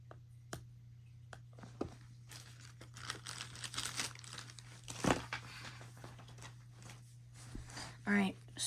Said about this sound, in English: I'll remove this plastic real quick